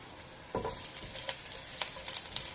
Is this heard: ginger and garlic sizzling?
yes